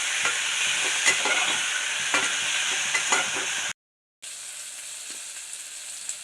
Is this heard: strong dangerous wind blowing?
no